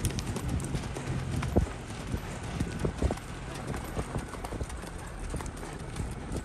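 Horse hooves clip-clop steadily during a ride at a horse race event, a continuous run of close, rhythmic thuds over outdoor background noise.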